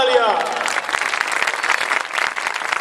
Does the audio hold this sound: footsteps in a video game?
no